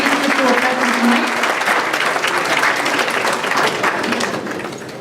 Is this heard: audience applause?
yes